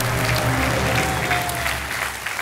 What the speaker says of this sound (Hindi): तालियों के साथ उनका एक बार फिर स्वागत